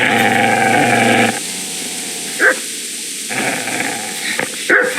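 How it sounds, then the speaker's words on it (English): A dog in the medieval video game Kingdom Come: Deliverance growls loudly up close, then gives a couple of sharp barks with yips between them after a short pause. "Get away, you mutt!"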